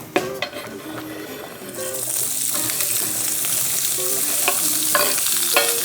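Cut bacon frying in a frying pan: a few utensil clinks at first, then a loud steady sizzle rises and continues with occasional scraping and tapping from stirring, close up and without speech.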